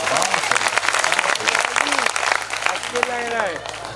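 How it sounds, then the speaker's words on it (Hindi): A crowd at a Jain religious ceremony claps with hands raised, a dense, lively burst of applause that runs throughout, with a loud voice speaking and calling out over it. "बहुत अच्छे लग रहा है तो ऊपर हाथ करके ताली बजाओ"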